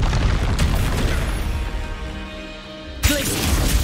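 Confringo fire-spell explosion in Hogwarts Legacy, a sudden booming impact near the end of a loud, dense stretch of rumbling game combat noise.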